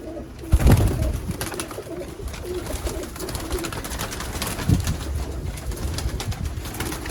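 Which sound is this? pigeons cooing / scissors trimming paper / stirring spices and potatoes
pigeons cooing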